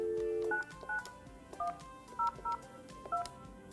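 A Yealink desk phone keypad sounds a short series of dual-tone beeps, six quick presses dialing an extension after a longer opening tone, clear and close with no talking.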